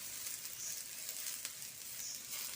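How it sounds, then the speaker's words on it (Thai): Beaten, seasoned egg poured over softened eggplant sizzles steadily in a frying pan, a constant close hiss with faint stirring. "เราก็ค่อยใส่ไข่ที่เรา ตีแล้วก็ปรุงรสไว้แล้วใส่ลงไปนะ"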